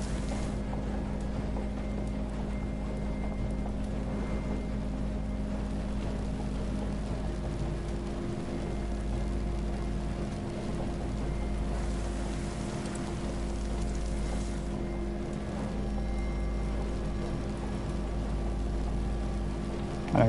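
The ship engine in the video game FAR: Changing Tides runs as a steady low mechanical drone for about twenty seconds, constant and unbroken, with no talk over it.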